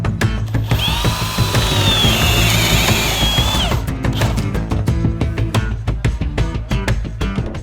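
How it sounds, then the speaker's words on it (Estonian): A power drill boring into wood at an angle through a template, heard as a steady loud whine for a few seconds followed by a series of sharp rhythmic clicks and knocks. "Kangi asetamiseks puurin 15-kraadise nurga all."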